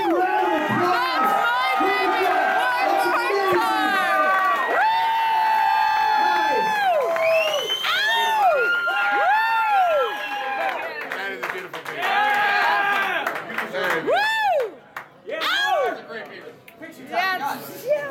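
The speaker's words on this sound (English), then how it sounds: "Give a big round of applause." Crowd at a natural beard awards event in Scottsdale, Arizona, clapping and cheering loudly over a host's amplified voice, with whoops and shouts rising and falling throughout.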